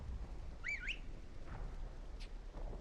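A character whistles in Final Fantasy Tactics: The Ivalice Chronicles, giving a short rising, warbling two-part tune followed by fainter, sparse chirps against a quiet game background.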